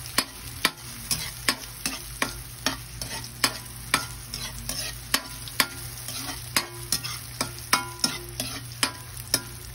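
Chaw fan fried rice cooking in a pan: a continuous sizzle punctuated by regular sharp scraping and clanking strokes of a spatula, close and fairly loud, repeating roughly twice per second.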